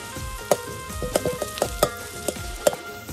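Chopped onions fry in a pan for mutton curry, cooked over a wood-fired stove, with a soft sizzle beneath scattered scraping and stirring knocks from a utensil, close and moderately loud.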